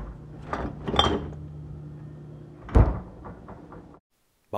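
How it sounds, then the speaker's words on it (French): A refrigerator door is pulled open with a soft suction and rattle, then swung shut with a firm thump, close by over a low background hum. "Je vous mets un son de porte de frigo."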